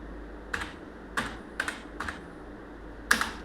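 Five separate keystrokes on a computer keyboard while typing a company name in Tally accounting software, crisp clicks spaced irregularly over a low steady hum.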